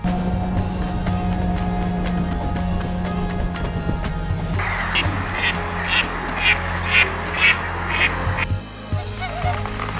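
Ducks on Yermakov island in the Danube delta quack in a rapid series of about eight calls over a steady outdoor background of water and wind, the quacks fairly close and clear.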